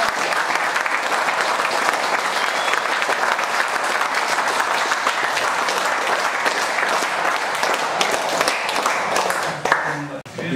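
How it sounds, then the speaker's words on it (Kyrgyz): An audience applauds young champions of a sports club in Kara-Kulja, Kyrgyzstan, with dense, sustained clapping at a steady loud level that thins out and fades at the very end. "Чемпиондорго кол чабып койгола."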